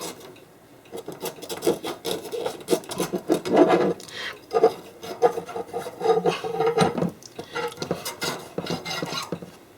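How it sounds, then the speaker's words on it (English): A hand file rasping a bevel onto a metal point, repeated close scraping strokes in an irregular back-and-forth rhythm, loud and alone. "taking a file or something and gently beveling down the point on this."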